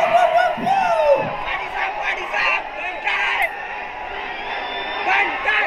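A concert crowd at a live rap performance in Hubli shouts and cheers in a continuous loud roar, with whoops and yells rising above it. Voices talk close by over the noise.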